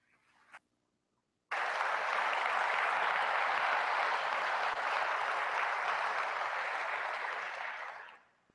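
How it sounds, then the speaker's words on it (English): A synod assembly hall breaks into loud, sustained applause from a large crowd after a short click, the clapping holding steady for about seven seconds before tapering off. "That was worthy of applause"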